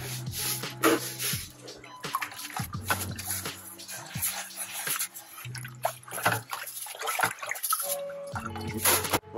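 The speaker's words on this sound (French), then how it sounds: "j'ai fini de rincer le substrat" Aquarium substrate is rinsed with water, giving close splashing, dripping and sloshing with irregular bursts and occasional clattering of the gravel-like material.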